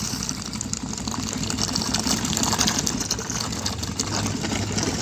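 A small electric water pump motor submerged in water runs steadily, its hum joined by continuous churning, gurgling water, close and fairly loud throughout with no talking.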